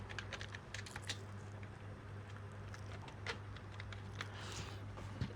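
Faint, quick clicking keystrokes tap on a computer keyboard in an irregular patter over a low steady hum, with no voices.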